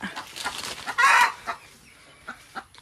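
A hen clucks near her eggs on a farm, short scattered clucks with one louder drawn-out squawk in the middle, close and without talk.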